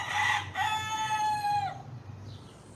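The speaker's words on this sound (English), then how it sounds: "If I had to listen to those roosters all day" A rooster crows loud and near, one long drawn-out call following a brief opening squawk, then fades into quiet farmyard ambience.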